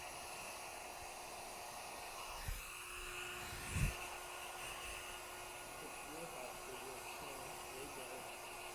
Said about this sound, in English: Notice I keep the blow dryer moving